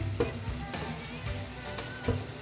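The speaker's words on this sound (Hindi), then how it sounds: "इनको अच्छे से मिक्स करेंगे और मसालों को हम भूनेंगे यहाँ टमाटर और प्याज के साथ" Dry spices and garam masala frying with tomato and onion in a pan for an egg curry, a steady soft sizzle with a few brief stirring knocks, moderately close and alone.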